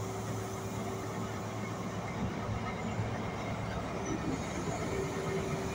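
A Colas Rail 125 train set in a train simulator game passes with a steady, moderately loud rumble and rolling wheel noise that holds evenly throughout, with no talk.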